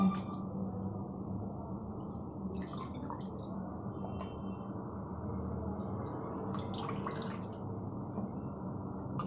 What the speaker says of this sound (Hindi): इसे धो लेते हैं।